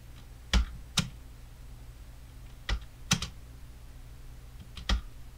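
Sharp, close clicks of a computer keyboard as the Home key and spacebar are pressed, heard as three separate pairs of quick keystrokes in an otherwise quiet room.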